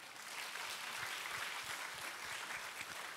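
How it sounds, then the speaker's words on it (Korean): A church congregation applauds during a Friday evangelism service, a steady moderate patter of many hands heard at some distance, fairly soft and even with no talk over it. "박수를 한번 주십시다"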